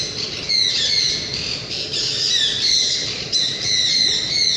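A parrot squawks in a steady stream of harsh, overlapping calls that carry on for several seconds at close to moderate distance, with no talking.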